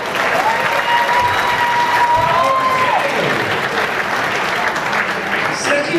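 Audience applause fills a cabaret show at the Sousse Palace in Tunisia, a steady, dense wash of clapping hands that sustains loudly for several seconds, with a faint voice briefly audible over it.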